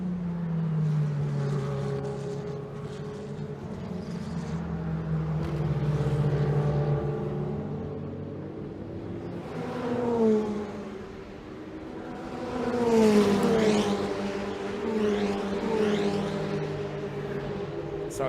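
Ferrari Challenge Trofeo Pirelli race cars run at Imola, engines whining and rising through the gears as cars pass, with swelling and fading pitch sweeps layered under a commentator's voice.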